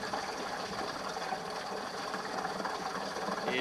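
A Minn Kota Endura C2 30-pound trolling motor running in water in second gear, a steady whirring mechanical drone with a faint rattling texture, constant throughout and swelling slightly at the end.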